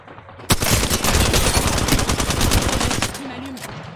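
Rapid automatic gunfire bursts out in an Apex Legends match, a dense, loud stream of shots lasting a few seconds before it cuts off, followed by a short electronic tone.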